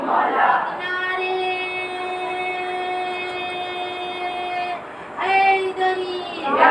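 A crowd at a Shia majlis for a chehlum in Ghazipur, Uttar Pradesh, roars the Haidari slogan in unison as a loud, sustained, droning shout that breaks off and then surges again in a second burst.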